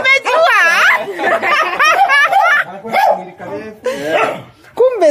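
A German Shepherd dog barks loudly and close in a burst of harsh, rapid barks, mixed with people talking and chuckling nearby.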